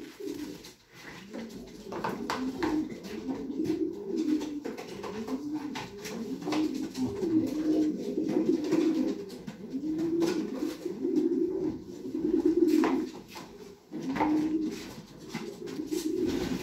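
Racing pigeons coo in a continuous overlapping chorus of soft, rolling low calls, close and steady throughout, with a few faint clicks and no talk.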